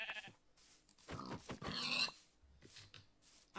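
Farm animals bleating and oinking in the Minecraft video game, a few short quiet calls spread across a few seconds with low background ambience.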